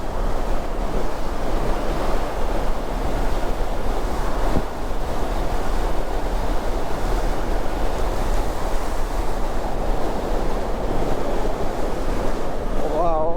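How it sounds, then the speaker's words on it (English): Strong wind roars steadily across the microphone during an electric folding bike ride, with a constant rumbling buffet, mixed with a broad wash like surf, continuous and loud throughout. "It's very windy"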